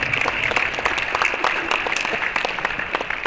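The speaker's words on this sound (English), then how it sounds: "Big round of applause for Northwestern's athletic department" Indoor crowd applause at a college women's team indoor tennis championship, dense steady clapping from many hands that holds for a few seconds at fairly close range, with no one speaking over it.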